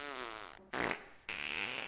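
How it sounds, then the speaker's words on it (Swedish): A cow lets out a long, loud fart after being fed garlic and citrus extract feed, a sustained blast that continues for a second or so, standing alone with no talk over it. "En 15 sekunder lång fis!"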